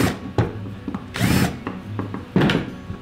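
A hand drill chamfering the edge of a freshly drilled 5/16 inch hole gives three short, close grinding bursts separated by quieter clicks and handling noise.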